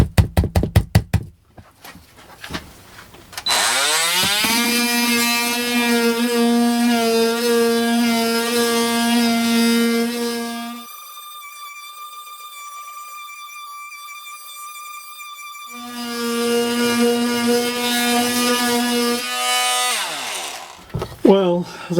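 A Parkside cordless battery multi-tool sands with a fresh 80 grit pad: a high buzzing oscillating whine that spins up, runs steadily, drops to a thinner idle tone, then surges again before winding down, with clicks at start and end.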